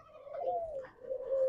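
Doves coo close by in a soft, low, rolling call, two breathy phrases with a brief dip between them, alone without any talk.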